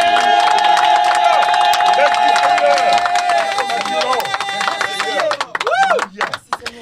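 A church congregation at a Saturday prayer service cheers and shouts in acclaim of the Lord, a dense loud mass of voices that thins into scattered cries and claps toward the end.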